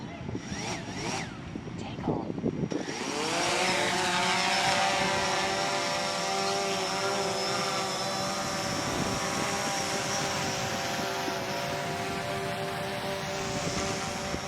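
A drone's steady motorized buzz starts after a few seconds and holds loud and constant in an open town square, with scattered voices and handling noise at the start.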